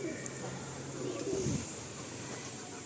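Pigeons coo softly in a rooftop loft, a faint low warble over steady background hiss, with no talking.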